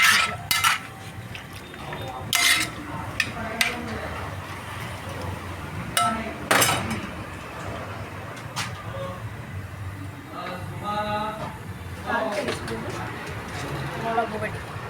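A spoon stirs onion, green chilli, curry leaves, salt and turmeric in a pan for potato theeyal, with clinks and scrapes against the metal in irregular bursts, close, while a voice talks throughout.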